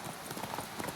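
Roach the horse's hooves clip-clop in The Witcher 3 video game, a quick run of rhythmic hoofbeats on the ground, close and steady, with faint background voice.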